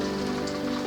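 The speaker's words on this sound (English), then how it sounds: "It's raining outside." Rain falls outside as a steady, even patter that holds at one level throughout, with no voices over it.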